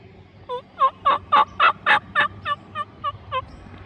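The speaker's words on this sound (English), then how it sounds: "They were roosted right up here in these trees, gobbling" Wild turkeys gobble from a roost in trees at close range, a single loud rapid burst of about a dozen warbling notes that swell and then fade over a few seconds.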